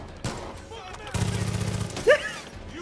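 Gunfire in the video game Far Cry 5: a short sharp shot, then a rapid burst of automatic fire lasting under a second, close and fairly loud, with some background game sounds and a brief voice-like chirp afterward.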